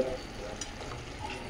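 A pan of spicy red amaranth greens curry with lentil dumplings simmers and fries with a soft, even hiss, faint and continuous throughout without speech.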